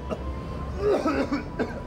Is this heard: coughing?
yes